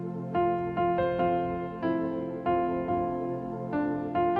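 A soft piano layer from a song plays quietly alone, sustained chords struck in a slow, even rhythm with a held low tone beneath.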